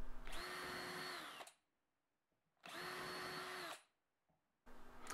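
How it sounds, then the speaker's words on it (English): Power drill boring pilot holes into a 2x3 wood board through a hooked-on template for a table saw stand, two steady whining bursts of about a second and a half each, with a third starting, separated by silence, close and loud. "I'm going to drill some holes where the pilot holes need to go"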